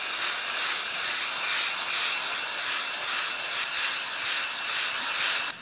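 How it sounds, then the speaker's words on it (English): Plateau brush honing inside the cylinders of an engine block gives a steady, broad hiss with a faint rhythmic whirring from the brush strokes, continuous and moderately close with no speech. "we do a little plateau brush that we run through the cylinders, just a few strokes"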